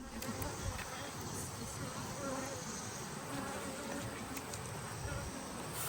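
Honey bees buzz around opened beehives during a mite check, making a steady, dense, fairly faint hum that continues for the whole stretch without a break.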